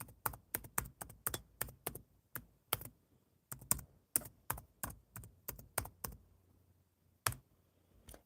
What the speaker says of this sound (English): And I will type in hello. I'll put my email address as well.